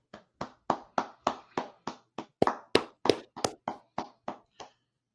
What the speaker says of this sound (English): Can we just clap our hands for Delaware's finest,